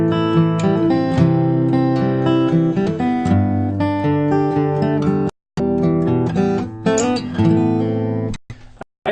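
Guitar playing the verse of a song, steady picked arpeggiated chords ringing close and loud with a brief dropout midway and a short stop near the end, no voices.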